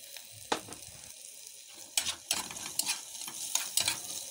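Onions sautéing with cumin in a pan for Egyptian koshari, a low sizzle broken by several sharp scraping stirs of a utensil against the pan, close and fairly quiet, with no talking.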